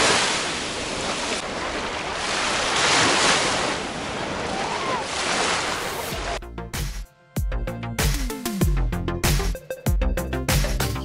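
Sea waves break and wash onto a beach in Alanya, Turkey, a loud, continuous roar with wind buffeting the microphone for about six seconds before it cuts abruptly to a different, choppier sound.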